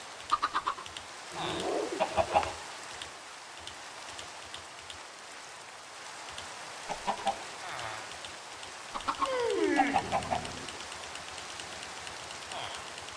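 Chickens clucking in Minecraft, a few short scattered clucks and squawks, fairly quiet and spaced apart over a soft steady background hiss, with no speech.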